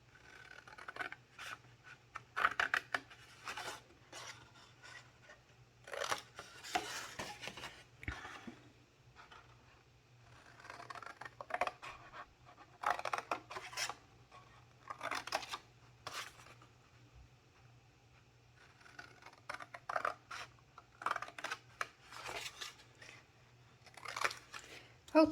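Paper being cut by hand to form small tabs on all four sides of a shadow box card, with repeated short snipping and crisp rustling bursts at close range and a steady low hum underneath.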